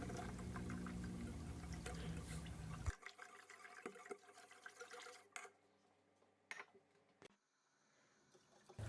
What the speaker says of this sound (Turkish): Ve 1 litre kadar et suyu ekliyorum.